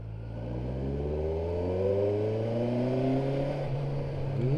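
A Kawasaki Versys 1000 SE motorcycle rides steadily in third gear at about 25 km/h, its engine note a continuous drone whose pitch climbs gently, with wind and road noise mixed in and no talking.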